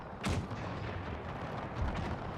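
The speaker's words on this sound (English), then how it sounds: "Cannon fire breaking these guys." Cannon fire from a Napoleonic-era battle in a Total War strategy game, heard as a dense rumbling barrage with a sharp boom near the start and another swell near the end, with no voices.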